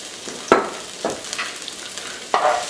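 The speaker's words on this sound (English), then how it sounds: "So looks like the pan is hot. We can add in the ginger and the garlic." Ginger and garlic hitting a hot pan give a soft, steady sizzle, broken by three sharp scraping stirs at roughly half-second to one-second intervals. Close and fairly quiet, with no talking.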